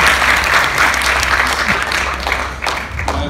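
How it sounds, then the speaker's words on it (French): A pop culture convention crowd claps loudly and steadily, a dense wash of applause that tapers slightly toward the end, with a voice faintly underneath. "J'aimerais qu'on l'applaudisse, s'il vous plaît."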